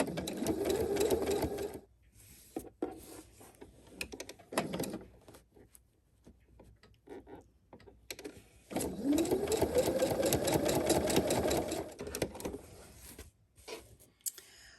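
A sewing machine stitches a zigzag row in single-color thread beside a straight stitch, running in two bursts of fast, even mechanical chatter separated by quieter pauses filled with small handling clicks.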